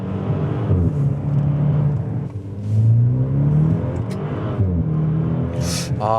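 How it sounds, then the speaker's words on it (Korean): A Maserati Levante GT Hybrid's four-cylinder engine hums steadily, then its revs climb and fall in smooth sweeps, loud and close, with a whooshing burst near the end. "진짜 엔진을 쥐어짜면서 회전수를 끝까지 쓰면서 달릴 때 진짜 예쁜 소리가 납니다"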